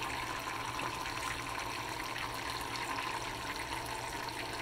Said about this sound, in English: I am going to fill it up with water until it's just over the top of this cane.